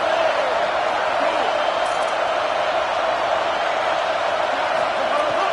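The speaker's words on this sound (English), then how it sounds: "The Buckeye crowd alive on 3rd down" Ohio State Buckeyes home stadium crowd roaring on third down at a college football game, a loud continuous wash of noise filling the whole stretch.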